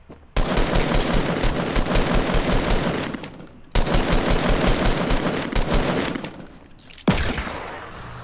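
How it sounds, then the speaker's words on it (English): Rapid bursts of gunfire in a Fortnite battle royale match, loud sustained volleys with two brief pauses and a final sharp burst, no talking. "He came in with a shotgun and missed every bullet"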